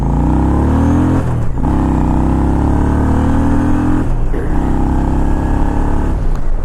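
A 2003 Honda Shadow 750 American Classic Edition motorcycle runs on a cold day, its engine droning loud and close with rising pitch through the gears and brief dips at shifts.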